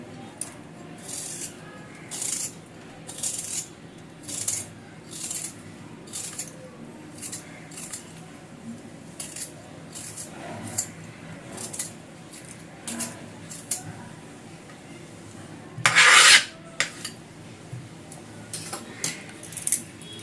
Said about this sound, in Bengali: আলু খোসাটা ছাড়িয়ে নিচ্ছি।